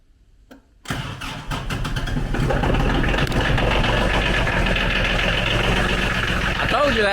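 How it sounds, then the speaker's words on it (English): A diesel tractor engine cranks and fires in bitter winter cold, catching after a brief lag at about one second and settling into a loud, steady, rough idle close by. "I told you that was the best start in the diesel there is."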